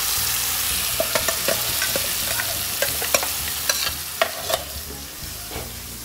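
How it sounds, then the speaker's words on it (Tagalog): Gravy poured into a pan of oil, cumin and turmeric powder, then stirred, giving a steady sizzling hiss with a scatter of sharp spoon taps and scrapes against the pan, close and without talk. "And now, it's time for us to put the gravy."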